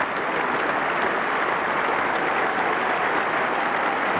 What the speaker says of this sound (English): Pleasing round of applause for Rutherford's 50 off 86 balls